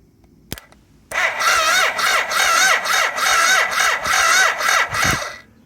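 A BMW K75 motorcycle engine on a cafe racer build turning over on the starter: after a single sharp click, a loud, steady whirring crank with rhythmic pulsing rises and continues for several seconds, close by and without talk.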